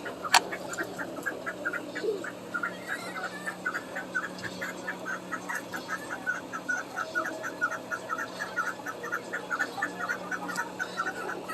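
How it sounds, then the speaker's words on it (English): A hen sitting on two eggs in a cage clucks in a soft, steady run of repeated low notes, faint and close over a quiet background hum. "there's a hen"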